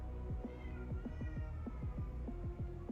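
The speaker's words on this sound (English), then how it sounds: "Cat." A cat meows repeatedly in quick, insistent calls, close and clear, with a low hum underneath.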